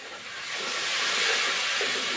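Garlic and ginger paste sizzling in hot oil, a close, steady hiss that swells over two seconds without pause.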